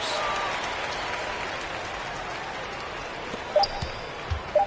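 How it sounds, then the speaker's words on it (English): Home crowd in an NBA 2K23 basketball game cheers and applauds in a steady broad roar that fades slightly, with a few sharp squeaks or pings near the end. "So the home crowd happy here as they get the victory."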